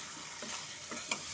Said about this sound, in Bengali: দইটা দিয়ে ভালো মতো করে পেঁয়াজ রসুনের সাথে কষে নেব।